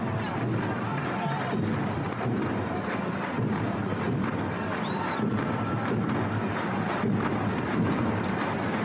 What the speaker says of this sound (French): la pluie assez torrentielle qui s'est déclenchée il y a peu de temps ici à Beyrouth